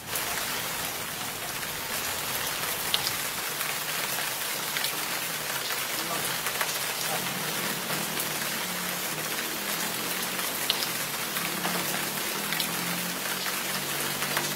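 Steady rain pours down, a dense even hiss of drops on surfaces with faint occasional patters, constant and close throughout with no voices.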